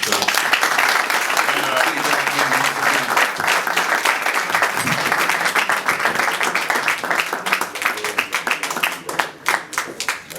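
A room at a boxing press conference fills with loud, continuous applause from the audience, with a few voices murmuring underneath, and the clapping grows choppier and more separated toward the end.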